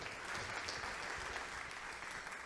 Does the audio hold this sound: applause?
yes